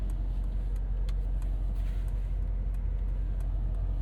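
Mercedes-AMG G63 with a 4-liter biturbo V8 pulling away, heard as a steady low rumble and hum at an even level with no sharp revving, close and continuous.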